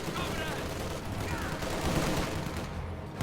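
Gunfire in a WWII strategy game as a StuG assault gun fires on massed infantry, a dense crackle of shots and blasts running continuously over a busy battle din.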